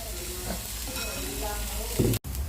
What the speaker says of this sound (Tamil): ஃபஸ்ட்டு இதை போட்டு நல்லா வதக்கிடணும்.